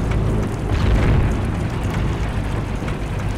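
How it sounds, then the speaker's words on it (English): Heavy rumbling booms and blasts from tanks and explosions in the video game Heroes & Generals, loud and continuous, with a dense low roar filling the whole stretch and no speech. "Tanks and explosions."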